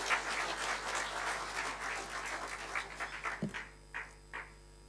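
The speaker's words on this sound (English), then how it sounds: "We can give him a huge round of applause." An audience at an ANC gathering with the religious sector applauds, steady crowd clapping that thins into a few scattered final claps.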